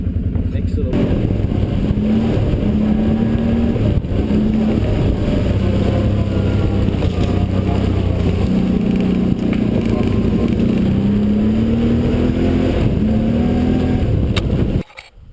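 Four-wheeler ATV engine running steadily while being ridden, a loud continuous drone with rising and falling pitch as the throttle changes, lasting nearly the whole stretch before cutting out at the end, with a voice talking over it.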